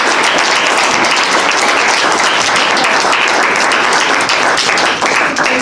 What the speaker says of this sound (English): Let's have one more round of applause for all our readers.